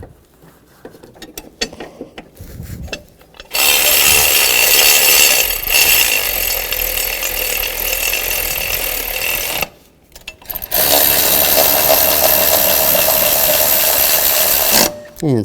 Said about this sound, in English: And snug these bolts up.